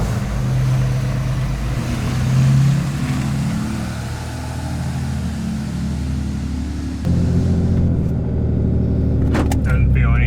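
Car towing an enclosed race car trailer with a race car loaded inside, a steady low road rumble and drone running throughout with a step up in level near the end, people talking over it.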